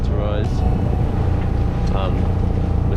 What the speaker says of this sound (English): so we've turned the engine on because the wind has died off